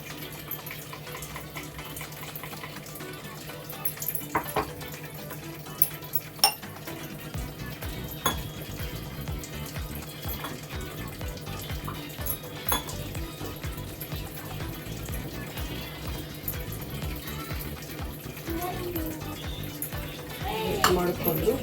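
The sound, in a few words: mixing ground poppy seeds and cardamom into cooked moong dal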